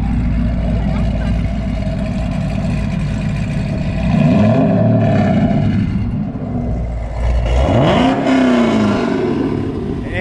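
A lowered car with an aftermarket exhaust fires up and revs, its loud engine rumble rising and falling in several throttle blips as people talk nearby.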